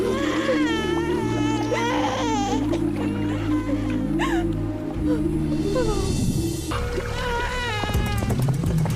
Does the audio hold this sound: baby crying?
yes